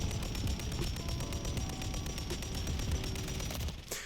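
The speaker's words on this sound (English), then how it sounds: "How am I being shot by this VTOL already?" VTOL killstreak gunfire in Modern Warfare III, rapid continuous automatic fire rattling steadily under a dense, loud battlefield din, ending in a sharper burst.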